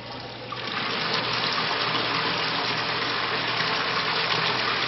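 Water runs steadily through a thermostatic mixing valve at a low flow of one or two gallons a minute, a constant close hiss that swells slightly at the start and then holds even, with no talking.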